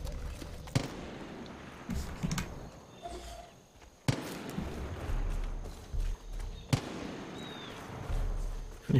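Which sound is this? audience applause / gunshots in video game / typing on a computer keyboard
gunshots in video game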